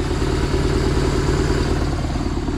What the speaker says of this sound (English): he's idling nicely, 1100 RPM, just as he should